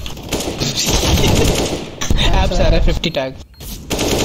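Dense bursts of rapid automatic gunfire from CS:GO crackle loudly and almost continuously, overlapping with players talking over voice chat.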